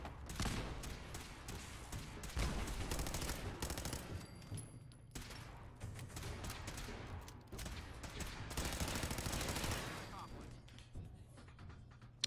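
Rifle and automatic gunfire in the video game Fallout 4, a loud, dense run of rapid shots and bursts lasting throughout, with a short lull midway before the firing picks up again.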